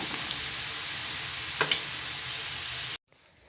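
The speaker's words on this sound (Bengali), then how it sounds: "পেঁয়াজটা পুরোপুরিভাবে ভাজা হয়ে গেছে।" Onions fry in a pan with a steady close sizzle, a couple of light stirring clicks midway, then the sound cuts off abruptly to near quiet.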